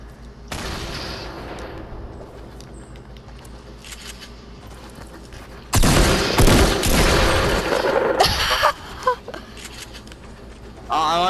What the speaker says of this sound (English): he was shooting at me